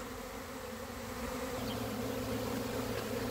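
A dense, steady drone of a honeybee swarm buzzing together, loud and unbroken from start to finish with no voices.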